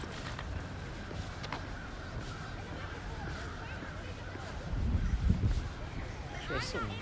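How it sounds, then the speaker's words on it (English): Crows cawing outdoors on a street in New York City's Lower East Side, harsh calls rising over steady city hubbub and distant voices, with a louder burst of noise partway through. "I don't know if you could hear that, but there's a lot of crows here."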